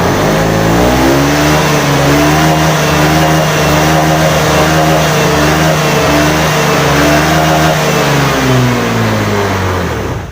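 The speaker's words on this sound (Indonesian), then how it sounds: "Kita kontak on dan kita double starter. Kita coba gas, dia akan berjalan atau enggak." A motorcycle engine is started and revved on a stand during a speedometer check, running loud and close for the whole stretch with rising and falling throttle pitch.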